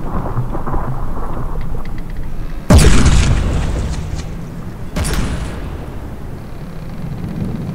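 Cannon shell explosions in the naval combat game From the Depths: two heavy booming impacts a couple of seconds apart, each with a rumbling decay over steady background noise.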